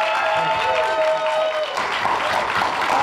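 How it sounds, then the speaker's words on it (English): Applause and some cheering welcome composer John Frizzell and writer Neal Marshall Stevens at a Thir13en Ghosts Q&A at The Frida Cinema, with a sustained tone fading out early and then clapping swelling in the second half. "Please give them a big round of applause for making it all the way over here."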